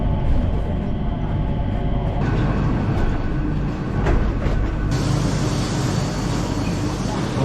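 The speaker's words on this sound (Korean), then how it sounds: "T1 스카이트레인 가는 걸 이렇게 따라가다 보니까 저런 기차 같은 게" An airport skytrain runs to Terminal 1, a loud, continuous rumble and rolling rail noise that rises to a brighter hiss partway through, with no talk.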